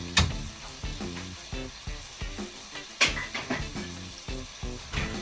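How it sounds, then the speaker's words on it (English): A burger patty with onions sizzles on a grill, a steady close hiss and crackle with soft rhythmic pops and stirring noises. "I love that sizzle"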